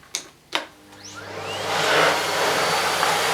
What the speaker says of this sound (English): as you can see I can just normally vacuum my carpet